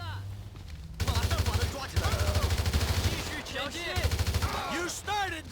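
AK-47 fire from the video game GTA 5 comes in rapid automatic bursts with a low rhythmic rumble. Sweeping game effects and voices sound over the shooting.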